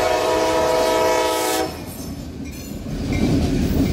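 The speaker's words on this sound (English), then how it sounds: "Got a train coming." A Wheeling & Lake Erie freight train sounds a loud, sustained horn blast for about a second and a half, then the heavy rumble of the passing cars rolls on close by.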